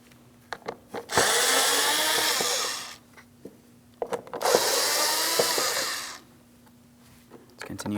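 A power drill backs out screws on a 2006-2010 Hyundai Sonata door panel in two close, loud bursts of about two seconds each. Light clicks and handling noises fill the gaps between them.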